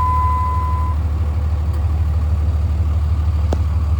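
A 2004 truck engine turns over and settles into a loud, steady low rumble close by, with a brief chime tone at the start and a faint click later.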